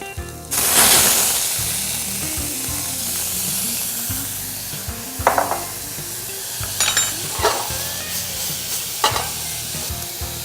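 Garlic and mushrooms hitting a hot pan for risotto, a sudden loud sizzle that settles into a steady close hiss of frying, with occasional stirring clinks and scrapes.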